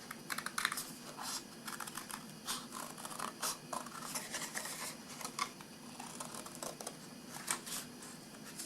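Small manicure scissors snip paper for a handmade snowball greeting card, giving a close, quiet run of short crisp cuts in an uneven rhythm with no talking.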